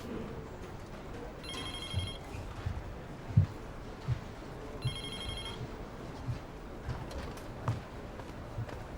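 A telephone rings in two short bursts in a quiet indoor room, the electronic trill fairly faint against low background noise, with occasional soft knocks and no speech.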